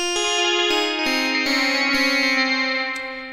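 A sustained synth chord from a Roland Alpha Juno 2 preset with repeated plucked notes, run through Valhalla delay, each trailing into echoing repeats that smear together into a wash, loud and steady throughout.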